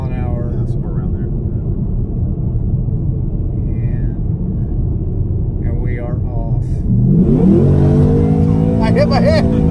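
Inside a 2018 Mustang fitted with a Whipple supercharger, a steady low rumble of cruising gives way to a loud, rising roar as the car accelerates hard on a highway, with some talk mixed in.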